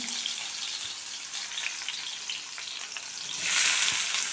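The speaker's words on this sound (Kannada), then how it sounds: "ಎಣ್ಣೆ ಕಾದಿದೆ ಫಸ್ಟು ಹಸಿಮೆಣ್ಸಿನ್ಕಾಯಿ ಹಾಕೋತಾ ಇದ್ದಾರೆ ಹಾಕ್ಬಿಡಿ ಹಾಗೆ ಈರುಳ್ಳಿನ" Green chillies and onion dropped into hot oil in a pan for an egg stir-fry give off a loud, dense, steady sizzle that flares brighter near the end, with no talking.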